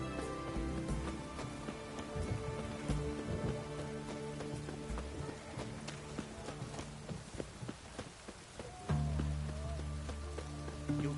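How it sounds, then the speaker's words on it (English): Steady rain patters across the ground in The Witcher 3: Wild Hunt, a continuous wash of drops with occasional clip-clop of hooves and low game sounds mixed in, moderately loud throughout. "It's raining"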